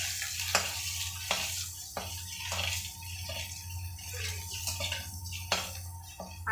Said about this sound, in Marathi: थोडंसं असं तर्पवून घ्यायचं तेलात